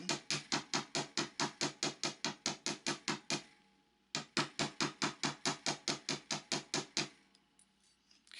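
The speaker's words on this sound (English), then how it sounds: "So I'm going to do some heavy hammering up here toward the top to make this kind of oblong." A hammer strikes wire being shaped into an oblong pendant, with two fast, even runs of about fifteen sharp metallic taps each, close and clear, split by a short pause.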